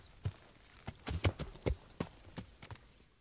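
Hooves clip-clop in an uneven walking rhythm in the video game Kingdom Come: Deliverance, close by and fairly quiet, with a soft background hiss.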